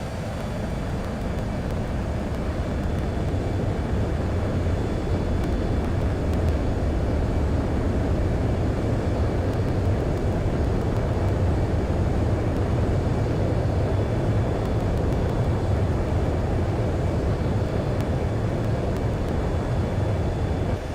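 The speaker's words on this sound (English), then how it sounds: "Spare 15, you are cleared for takeoff." A fighter jet's engine roars steadily through takeoff in Ace Combat 7, a broad, continuous rumble holding at constant loudness without any talk.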